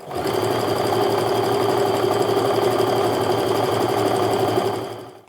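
A sewing machine stitches a fabric strip for a fat quarter quilt, a fast steady mechanical whir with rapid needle ticking, close and loud, running unbroken before winding down at the end.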